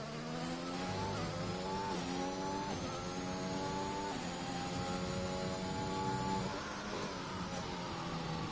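An F1 car in the racing game F1 2021 at the Austrian GP, its high-pitched engine whining steadily and rising through repeated upshifts, with gear changes stepping the pitch every second or so, loud and continuous with no talk.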